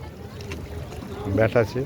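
A boat carries passengers on the river at Prayagraj during the Magh Mela, a low rumbling water and motion noise under voices talking close by.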